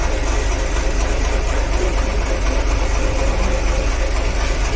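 A steady, loud boat engine drone runs continuously without a break while the boat turns near Madh, Mumbai, a low mechanical rumble with no talking over it.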